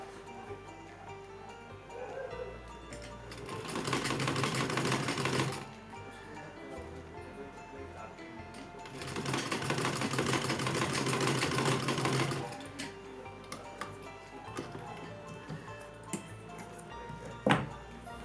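A sewing machine stitches fabric for a small Laddu Gopal dress in two sustained runs of close, steady mechanical whirring, each lasting a few seconds, separated by quieter handling noise and a sharp click near the end.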